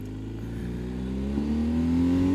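Motorcycle engine revs while riding, its steady drone rising in pitch as the bike accelerates, close and growing louder with no talk over it.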